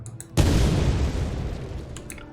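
An explosion sound effect plays back in Unreal Engine 5: a sudden loud boom bursts in, then a long rumbling decay that fades slowly, with faint quieter sounds just before it.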